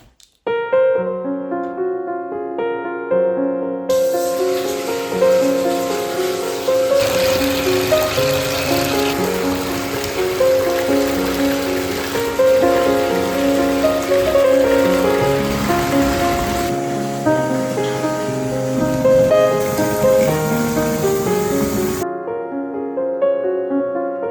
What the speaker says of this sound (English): now we can let in some nice hot water and have a nice bath